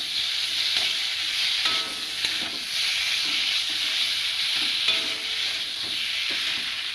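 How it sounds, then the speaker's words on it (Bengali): Fried potatoes stir-fried in spiced oil in a pan, with a steady, loud sizzle and intermittent scraping stirs throughout, no talking. "আলুগুলো দিয়ে একটু কষবো।"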